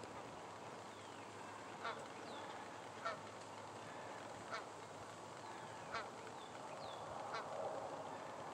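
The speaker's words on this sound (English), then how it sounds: "I see some goose parents." A family of geese with goslings gives several faint, spaced honks at a distance over a steady outdoor hiss, with irrigation water gurgling somewhere nearby.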